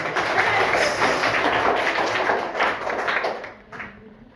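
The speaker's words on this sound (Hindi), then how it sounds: "ग्रेट, ताली।" Primary-school pupils in a Jaunpur classroom clap together on the teacher's call, a dense, steady patter of many small hands that fades out over the last second.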